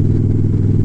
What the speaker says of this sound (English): I always say I want to get a quieter exhaust until I, like, rip the throttle.